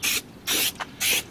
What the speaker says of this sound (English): we're going to take a little bit of this same spray, and we're going to kind of spray along here